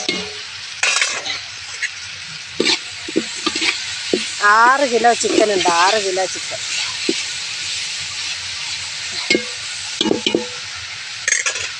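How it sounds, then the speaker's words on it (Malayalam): Tomatoes, curry leaves, garlic and ginger sautéing in a pan, a steady sizzle with scraping stirs and clinks, while someone talks briefly over it and a drawn-out whining tone rises in the middle. "തക്കാളി കരിയാപ്പില ഇട്ട് കൊടുത്തു കേട്ടോ. വെളുത്തുള്ളി ഇഞ്ചി എല്ലാം കൂടെ വഴറ്റുവാണ്"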